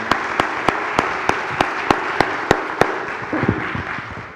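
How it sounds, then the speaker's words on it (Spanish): Audience applause at a Spanish-language talk event featuring Carlos Vives, sparse distinct claps at first, then thickening into a fuller round of clapping toward the end, moderately loud and without speech. "Un aplauso, por favor."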